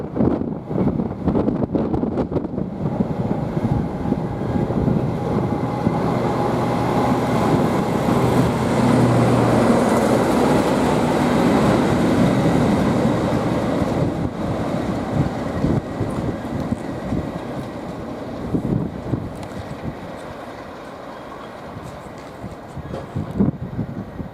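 A Class 37 diesel locomotive rumbles as it runs round its train at Nuneaton station, a low engine drone with wind buffeting the microphone, swelling then gradually easing off.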